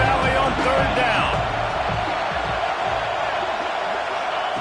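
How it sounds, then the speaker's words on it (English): A big stadium crowd roars steadily on third down in Happy Valley during a College Football 26 league game, a dense wall of noise that swells early then settles into a sustained rumble. "Here comes the noise from this big crowd in Happy Valley on 3rd down"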